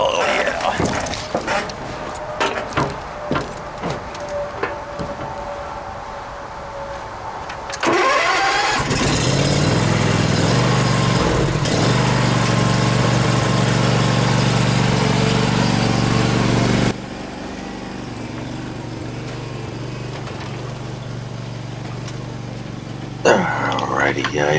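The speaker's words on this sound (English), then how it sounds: "I'm getting my lawnmower ready." A lawn mower engine cranks a few times and catches, then runs loud and steady at idle before dropping to a lower running note, with scattered handling noises around it.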